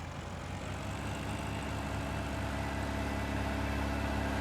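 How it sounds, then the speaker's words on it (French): Tractor engine in Farming Simulator 19 rumbling steadily at a low idle-like drone as it is driven off, a continuous mid-loud mechanical hum with no talk over it. "Ouais, ils sont en train d'emmener le tracteur."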